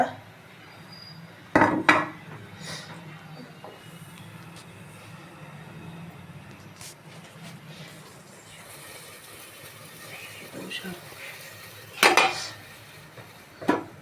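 A metal pot clanks sharply as it is set down on the stove and moved, with a couple of loud knocks separated by quieter handling and a low background hum.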